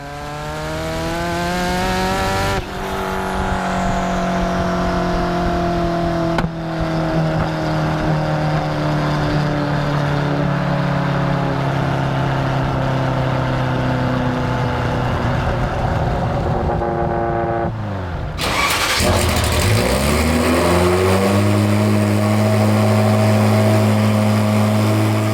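Ferrari F40 engine, warmed up and hot, revs around 4,000 RPM with a loud, sustained harmonic drone; pitch shifts at a few points, dropping briefly near the end before picking back up to a lower, steady idle-like tone.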